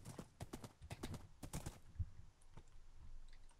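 Hooves clip-clop in a quick, uneven series of sharp hits from a horse in Minecraft, close and fairly quiet with a slight reverberant tail and no talking.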